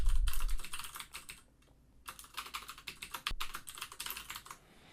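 Someone types code for a spreadsheet macro subroutine on a computer keyboard: rapid, close bursts of key clicks with a short pause in the middle and a single heavier keystroke near the end.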